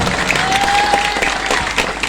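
Audience applause at an Islamic sermon gathering, a dense, steady burst of many hands clapping that fills the whole short stretch at close range.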